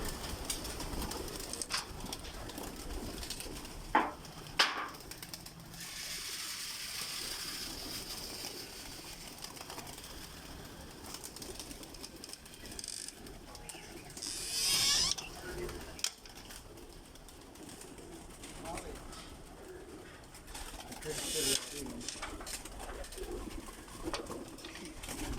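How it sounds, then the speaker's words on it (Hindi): Lal Pari pigeons cooing inside a loft, soft repeated coos with scattered wing flutters and brief sharper calls, moderately close, with faint voices and background noise underneath. "ये लाल परी कबूतर है।"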